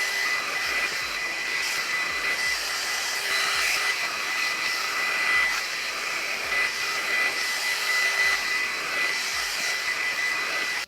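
Steady, loud rushing whoosh of a GHD 2-in-1 hot air styler blowing on hair, a continuous close airflow roar with a faint motor whine that holds throughout.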